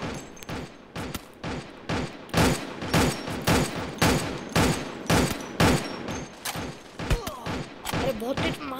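Gunfire in the mobile shooter Free Fire MAX: a steady run of sharp, evenly spaced shots, roughly two per second, loud and punchy, with a voice briefly heard near the end.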